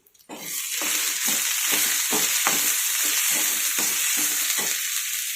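Spices stirred into frying karela (bitter gourd) and green chilli in a pan, a steady sizzle broken by a rhythmic series of about ten scraping spoon strokes, close and continuous, with no talk.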